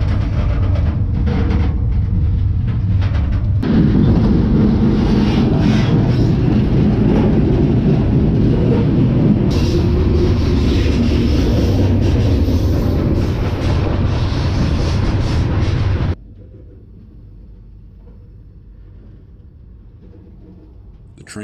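A freight train rumbles steadily along the tracks through Baltimore, loud and close, with a rushing roar that cuts off abruptly to quieter ambience near the end.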